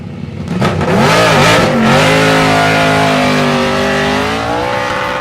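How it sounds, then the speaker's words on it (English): A loud, deep V8 muscle car engine roars continuously at a historic sprint race, revving and rising in pitch as the car accelerates, with a steady howl sustained to the end. "from the sounds of silence to the V8 roar of the muscle cars out on track, and Jamie Chant really set the mark"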